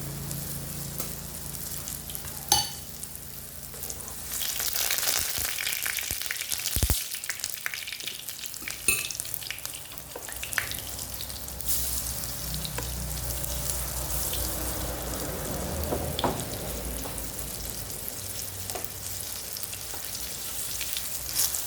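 Banana snack sizzles steadily in a very hot pan, a dense continuous frying crackle with a few sharper pops and clicks throughout, close and fairly loud, no talking.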